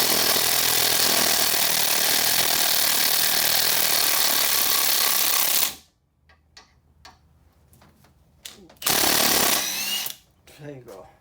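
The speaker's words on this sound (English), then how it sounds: "now with the wrench," A ratchet wrench turning on a Toyota Camry during a brake pad and rotor job, with loud continuous mechanical noise giving way to a series of sharp, separate ratcheting clicks and a short burst nearby.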